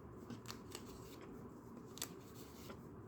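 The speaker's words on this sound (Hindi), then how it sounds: "from here randomly I am pulling the cards" Tarot cards pulled at random from a deck, a soft papery riffle and slide with a few sharper card snaps, steady and close throughout.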